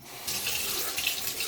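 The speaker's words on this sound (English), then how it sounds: "Put some warm water in there." Warm water runs steadily from a tap into a bowl for proofing yeast with sugar, a constant close hiss that starts abruptly and continues alone with no talk.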